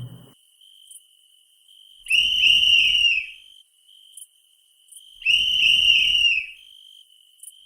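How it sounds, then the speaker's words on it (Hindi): A shrill whistle sounds in two long, loud blasts over a steady thin high tone, with short chirps in between. "इसलिए अब वह और जोर से सीटी बजाने लगा"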